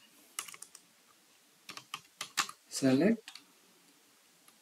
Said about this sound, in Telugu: ఓకే, కోడ్ నేను రాస్తున్నాను